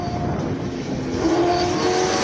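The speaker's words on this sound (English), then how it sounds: "Jean-Pierre van der Veld launches with the Ferrari 296 GTB." A Ferrari 296 GTB launching at a Cape Town hillclimb, its engine rising in a loud, steady note close by.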